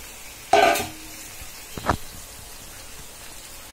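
Beaten egg hits a hot oiled pan and sizzles as it fries over okra, a sharp hiss on contact, then a second brief frying burst, close and without talk.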